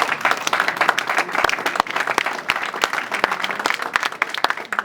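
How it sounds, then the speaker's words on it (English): A crowd at a People's Party of Canada rally in Brampton claps steadily for about five seconds, the individual hand claps sharp and close within a dense, continuous patter. "Guys, I want you guys to give Max a big round of applause"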